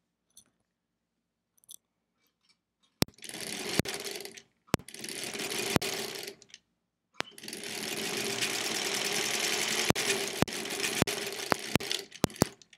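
Sewing machine stitching pale quilt fabric pieces for a sampler quilt, in several bursts of steady whirring with brief pauses and sharp clicks between, close and fairly loud, no talking.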